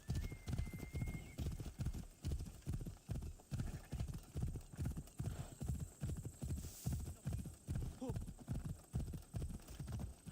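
A horse gallops at a steady, rapid clip-clop rhythm through the ancient Greek world of the video game Assassin's Creed Odyssey, with a brief whinny partway through over a faint ambient hum.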